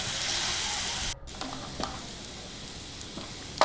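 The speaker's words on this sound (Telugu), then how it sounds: "సాల్ట్ వేసుకొని ఫ్రై చేసుకోవాలి ఇలా కలుపుతూ ఫ్రై చేసుకోవాలి" Chicken pieces with salt frying in a pan for chicken biryani, a steady close sizzle with stirring scrapes, a brief pause, then quieter sizzling and a few utensil clicks.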